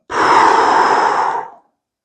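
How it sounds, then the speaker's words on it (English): A single strong, breathy exhale during a skullcrusher exercise, close and loud, lasting about a second and a half before cutting to silence. "and exhale as we push up."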